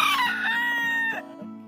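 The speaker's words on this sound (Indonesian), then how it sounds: "Mas Kisi taruh ayam jagonya di situ karena ayam jagonya tuh nakal dia" A rooster crows close by near its coop in a snowy yard, one long loud cock-a-doodle-doo that holds steady before trailing off, followed by softer clucking.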